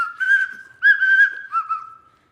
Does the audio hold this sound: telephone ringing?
no